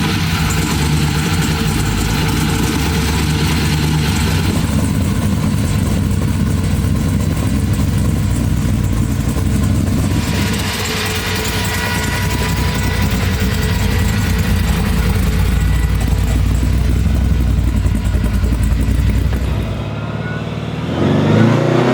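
A 1941 Studebaker gasser with an 800+ horsepower engine roars loudly and steadily, building under throttle with a deep rumble, then cuts off abruptly near the end.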